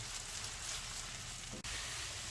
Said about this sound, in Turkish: Şöyle birazcık, birazcık bayağı kavuracağım arkadaşlar